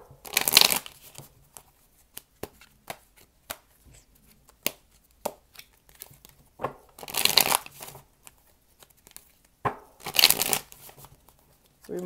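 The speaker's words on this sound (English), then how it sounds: "Three more shuffles." Tarot cards being shuffled by hand, with three bursts of riffling plus scattered taps and soft card clicks between them, close and fairly quiet.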